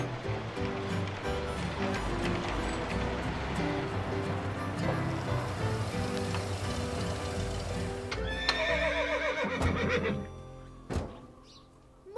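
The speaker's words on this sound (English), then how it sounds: "That's a good horse, Julia" A horse neighs and whinnies loudly and close, with hooves clip-clopping in a steady rhythm through most of the stretch, then the sound thins out near the end.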